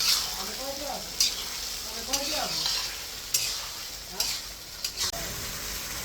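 Chicken being stir-fried (kosha) in a pan, a low sizzle broken by repeated scraping strokes of a spatula about once a second, close and fairly soft, with no speech.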